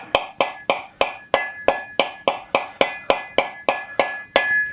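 A coconut struck repeatedly around its middle to crack it open, a dozen evenly spaced sharp hard knocks, close and loud, with no talk.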